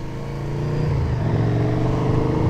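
A KTM 1290 Super Duke R motorcycle rides along a road heading toward a mountain pass, its engine droning loud and close with a steady rising pull and wind rush.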